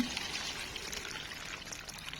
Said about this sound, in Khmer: អញ្ចឹងនេះខ្ញុំលើកចាក់ហ្មង